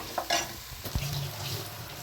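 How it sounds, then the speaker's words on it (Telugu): Ginger garlic paste frying in a pan for a chicken fry, giving a low steady sizzle with a couple of brief stirring scrapes near the start; no voices. "ఇప్పుడు ఇందులో అల్లం వెల్లుల్లి పేస్ట్ స్మెల్ అంతా పోయేంత వరకు మంచిగా ఫ్రై చేసుకోవాలి."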